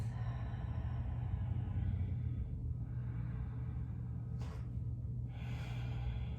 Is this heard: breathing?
yes